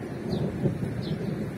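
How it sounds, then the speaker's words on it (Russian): Thunder rolls beneath a dark storm sky in Turkey, a low continuous rumble that swells slightly partway through, with no speech. "И гром."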